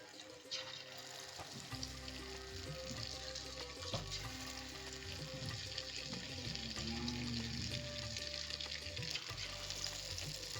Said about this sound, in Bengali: এবার সেই তিন ঘন্টা ম্যারিনেট করে রাখা চিকেনটা ভাজা হবে